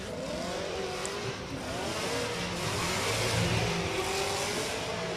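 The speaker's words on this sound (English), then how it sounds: "Chevrolet V8 powered Nissan 370Z goes wide." A Chevrolet V8 powered Nissan 370Z drift car at full throttle during drift championship qualifying in Oman, its engine roaring and rising in pitch with some tire squeal, heard from a moderate distance.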